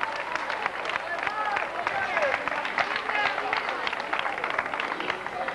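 Spectators clapping for runners passing during a 1997 town road race in Sueca, Spain, a dense steady patter of applause with crowd noise and a commentator talking over it.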